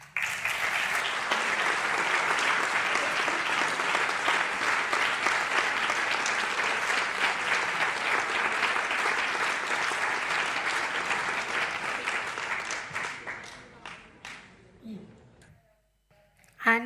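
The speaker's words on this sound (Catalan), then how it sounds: "Un aplaudiment per als nostres convidats, Andy Trias, Eva Casadarpín i Jordi Riu" An audience gives sustained applause to guests at an inclusion event on independent living. The clapping is loud and dense and holds steady for about twelve seconds, then thins out and fades toward the end.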